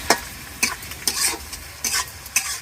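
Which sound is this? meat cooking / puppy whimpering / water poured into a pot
meat cooking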